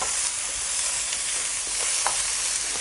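Steady sizzling and hissing from leek frying in a pan without added fat, with faint clicks and stirring, continuous and close without any voices.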